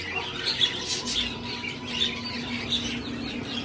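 Australian parrots in a small zoo beside a house, squawking and chirping in short repeated calls over a steady hum of background noise.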